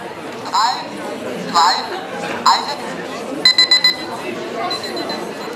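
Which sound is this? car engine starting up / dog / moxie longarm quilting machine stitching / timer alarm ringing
timer alarm ringing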